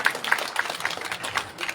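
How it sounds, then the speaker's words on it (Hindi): A brief burst of audience applause at a Hindi poetry recital, steady rhythmic clapping at moderate distance, fairly soft and with no talk over it. "आप कृपया तालियों से मेरा सहयोग करेंगे।"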